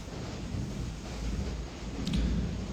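Heavy rain falls with thunder outside a home, a dense, steady roar with a deep rumble building toward the end, no talking.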